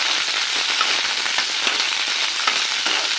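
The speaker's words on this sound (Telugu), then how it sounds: "ఇలా పచ్చిమిర్చి అన్నీ వేసేసుకుని ఫ్రై చేసుకోవాలి." Green chillies frying with coconut in a hot pan give a dense, continuous sizzle with fine crackling pops, close and steady throughout, with no voices.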